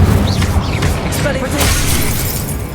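Incendio fire spell cast in Hogwarts Legacy combat, a loud burst of crackling, whooshing impact noise layered over busy battle sounds and a shouted voice.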